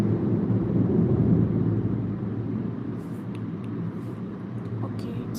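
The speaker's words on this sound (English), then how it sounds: "Sorry for the noise because I live near airport." Steady low rumble of aircraft from a nearby airport, loud and continuous throughout, with a broad roar that eases slightly midway and faint higher hiss above it.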